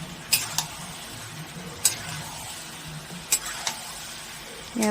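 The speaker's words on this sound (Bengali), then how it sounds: "ভালো করে কষিয়ে নেব" Chicken sautéing in a pan with ginger-garlic paste for a whole-spice chicken curry, a low steady sizzle broken by several sharp scraping stirs of a spatula, close and without talk.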